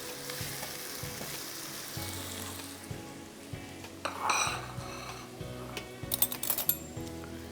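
Onions fry in oil in a karahi until golden, a low steady sizzle under scattered clinks and scrapes of a metal spoon against the pan, moderately faint throughout.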